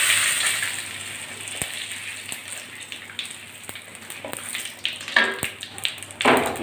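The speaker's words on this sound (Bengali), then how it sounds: "তার জন্য এই যে সাদা জিরে ফোড়ন দিচ্ছি" Cumin seeds and bay leaves sizzle in hot oil, a dense, steady crackling hiss like rain with scattered sharper pops, loud and close, swelling again toward the end.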